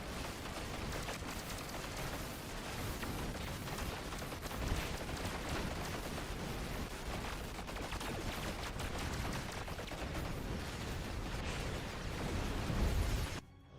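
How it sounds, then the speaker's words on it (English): Continuous roaring blasts and rapid bursts of explosive noise from warp core explosions in Star Trek Online, loud and dense, with a final heavier rumble near the end. "So afraid of the warp core explosions here."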